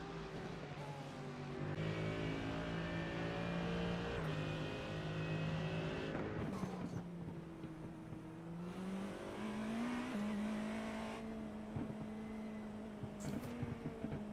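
Race cars in an IMSA-style sim racing game at the Belle Isle street circuit, engines droning and shifting pitch through braking and acceleration, with a steady layered motor tone and brief tire noise, no talk.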